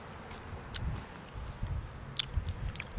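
Close, quiet crunching and chewing of crispy deep-fried food from a famous Chinese chef's restaurant, several irregular bites and squishy chews with a few sharp crackles, no talking.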